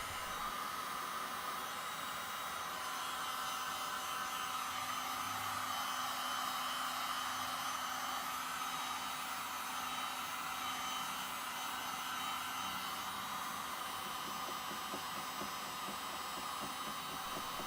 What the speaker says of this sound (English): Well, this heat gun definitely does get hot.